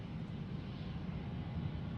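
A Dash 8 turboprop drones in the background at Sydney Airport, a low, steady, distant engine hum with no other sounds over it.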